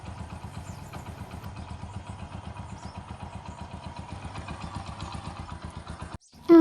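A scooty engine running steadily as two sisters ride to a temple, a close, even low putter with rapid regular pulses, ending in a brief pause and a louder burst.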